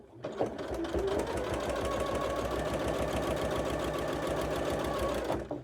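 A sewing machine stitching trousers, its speed controlled by a foot pedal, runs in one steady rapid chatter for several seconds, close and fairly loud, starting and stopping abruptly, with no voices.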